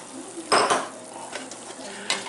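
Eggs added to chorizo cooking in a pan: a brief clatter and sizzling burst, followed by quieter stirring scrapes and a final utensil clink against the pan.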